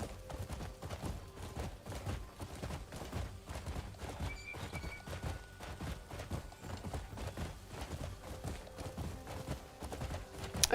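Rapid, rhythmic hoofbeats of a galloping horse in a video game, steady and fairly near, with a brief whinny partway through and no talking.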